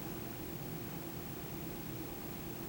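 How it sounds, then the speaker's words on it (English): An indoor air conditioner hums with a steady, faint broadband whir that holds unchanged throughout, with no other sounds. "Perhaps you notice the sound of the air conditioner humming."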